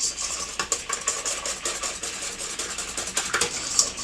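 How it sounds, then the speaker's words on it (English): Gluten free bread mixture whisked in a bowl, a steady close scraping and rattling with quick repeated strokes, loud and continuous without any talk. "I just go ahead and whisk it up in here."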